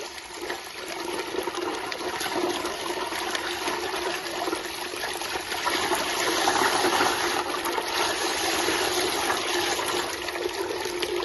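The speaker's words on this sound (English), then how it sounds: "Let's inspect the water pumping performance at this moment regarding this identical pump." Steady rushing, splashing water flow from a SHYSKY DC60D-24120A 24V 120W brushless DC water pump, with a constant pump hum underneath, continuous and fairly loud throughout with no talking.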